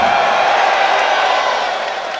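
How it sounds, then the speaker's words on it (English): Excited crowd noise at an exhibition MMA fight at the Hammond Center in Hammond, Indiana: a steady, loud wash of cheering and shouting that fills the whole moment without pause. "The crowd's just excited."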